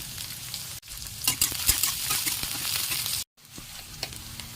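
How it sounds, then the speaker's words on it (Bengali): Steady crackling sizzle of five-spice seeds, a dried red chilli, onion and curry leaves frying in hot oil in a pan, with scraping stirs and a brief silent break near the end. "কড়াইতে তেল গরম হয়ে গেছে, অ্যাড করে দেবো 5 ফোড়ন আর একটা শুকনো লঙ্কা, পেঁয়াজ, কারি পাতা"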